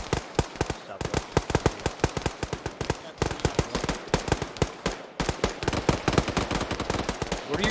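Dense gunfire in the ArmA 3 military video game: rapid automatic bursts and single shots crack continuously and loudly, near and far, with a brief pause around the middle and faint voices underneath.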